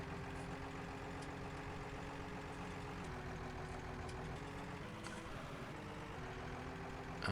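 Steady idling tractor engine in Farming Simulator 19, a continuous low rumble with a faint shift in pitch partway through, heard alone with no talk.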